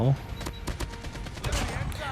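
MSMC submachine gun in the mobile game Call of Duty Mobile fires rapid repeated bursts of close shots, the rattling gunfire continuing through the whole stretch.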